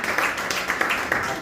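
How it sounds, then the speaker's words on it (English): Applause rises at a hospital handover ceremony for oxygen concentrators, with uneven clapping from a gathered crowd and a few sharper individual claps standing out. "So give her another round of applause."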